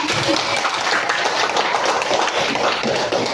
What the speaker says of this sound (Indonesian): Beri tepuk tangan untuk Aska.